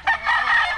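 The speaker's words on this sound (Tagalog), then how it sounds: "may mga manok kung dito mga idol" Chickens on a Philippine farm raising birds for roasting give a short burst of clucking and crowing-like calls, loud and close, lasting under a second with no talk over it.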